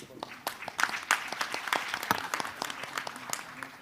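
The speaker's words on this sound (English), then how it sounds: "Let's welcome her with a big round of applause." Audience applause welcoming a speaker at a bio summit conference, a sustained patter of many hands clapping at moderate distance in a hall, with speech mixed in.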